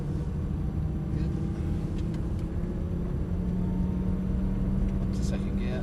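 Lamborghini supercar engine on a track, a steady low rumble rising gently as the car pulls away in first gear, heard from inside the cabin with someone speaking over it.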